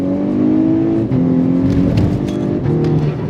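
A tuned 4-cylinder engine in a 2010s VW Golf R Mk6 hot hatch revs loudly from inside the car, rising and settling in a smooth steady drone with a brief dip partway.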